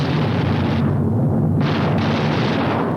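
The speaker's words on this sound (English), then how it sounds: "Each gunner flexes his sights and tries the coordinated fire controls with a few short bursts to clear the guns." Boeing B-29 bomber gunners fire short test bursts from their guns, heard as a loud, dense, continuous roar of rapid fire with a brief dip in the middle.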